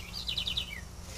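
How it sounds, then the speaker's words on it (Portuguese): A small bird sings at a tropical plant farm: one quick series of high, descending chirps, faint over a low background hum. "Tem um passarinho lindo cantando"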